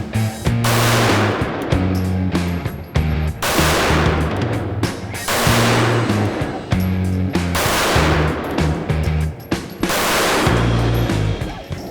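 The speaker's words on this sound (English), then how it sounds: "we'll do the first 5 shots, and we're gonna take our time slow shooting for accuracy" IWI Masada pistol fired slowly for accuracy, about five loud, sharp reports spaced a couple of seconds apart, each ringing out before the next, with no talking.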